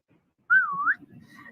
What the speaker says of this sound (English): you got a whistle in there?